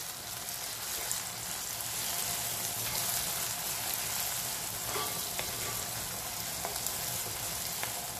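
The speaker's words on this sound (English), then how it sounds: "I'll take the camera now again to where the onions are being cooked" Onions frying steadily in a pan for a whole-spice chicken dish, a dense continuous sizzle with faint crackles, close and alone with no voices.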